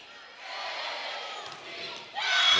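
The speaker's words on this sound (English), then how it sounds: "Cardinal cheer making some noise here." Cheer squad yelling and cheering in a gym during a college volleyball match, a sustained, broad crowd-like roar that dips briefly and then surges louder near the end.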